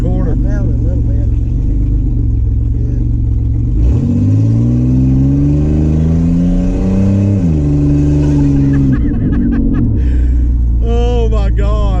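A third-generation Camaro fitted with a mini spool accelerates around a corner, its loud engine droning steadily, then climbing in pitch and dropping back, heard from inside the car with people talking over it.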